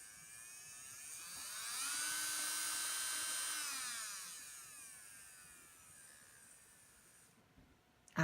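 A small electric nail drill whirs up to a steady high-pitched hum, holds, then winds down and fades to near silence; fairly quiet and close.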